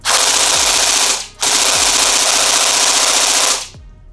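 A Jingji SLR V4 gel blaster firing gels in two long, loud full-auto bursts of rapid, evenly spaced shots, separated by a short gap, with the motor whirring to a stop at the end.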